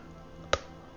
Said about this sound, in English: That was my chair that made that noise.